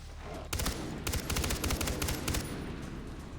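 Rapid bursts of gunfire from the video game Far Cry 3 crack out loudly and closely for about two seconds, with several quick volleys, then fade into background game ambience.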